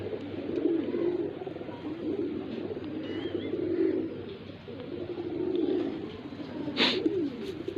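Newly bought young pigeons cooing, with soft low rolling coos repeating about every second and a half, close and fairly quiet, plus a brief sharper chirp near the end.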